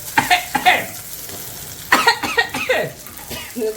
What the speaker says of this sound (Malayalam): ചുമക്കുന്നുണ്ട്.